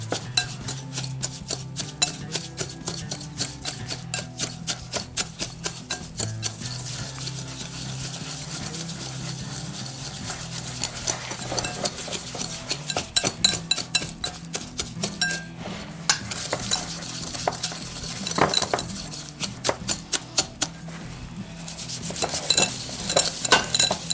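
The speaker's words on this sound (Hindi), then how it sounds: "बटर है, शुगर है मेरे पास और मैं इसको मिक्स कर रही हूँ।" Butter and sugar being mixed in a bowl by hand for a custard tart, a steady rhythmic scraping and stirring that runs continuously, picking up faster, more rattling strokes toward the end.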